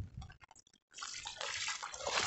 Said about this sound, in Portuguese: E a água transbordou.